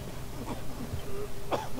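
A video game character gives a few short, rough coughs and throat-clearing sounds in separate bursts, fairly quiet, with no speech, in Resident Evil 6.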